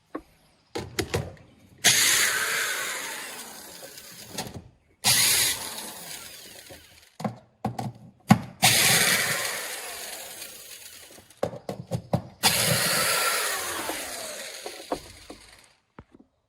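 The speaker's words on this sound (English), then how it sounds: "we're gonna remove 4 10mm bolts, 1, 2, 3, and 4, and 1 clip over here" A power tool whirs in four long bursts, separated by short clicks and handling noise, as it removes 10mm bolts during a vehicle frunk installation. The tool is close and loud, with no talking.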